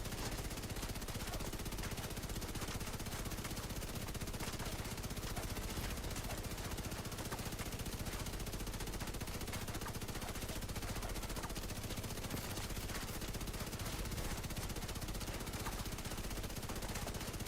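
Gunfire in The Division 2 during a shooting session, rendered as a steady, dense rattle of rapid shots that never lets up across the whole stretch, distant and muffled at low volume.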